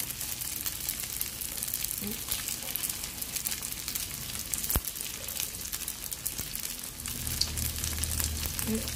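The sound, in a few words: frying vegetarian pork belly in a pan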